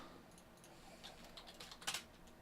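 Someone typing on a computer keyboard, a quiet run of scattered key clicks that builds to a few sharper taps near the end, close and with no talking.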